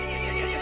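A horse neighs loudly and close in the video game Resident Evil Village, one short angry whinny over a steady game soundscape.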